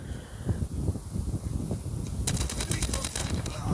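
Rapid automatic gunfire from Call of Duty rattles on without pause, a dense, steady burst of shots with bright crackling cracks that grow sharper toward the end.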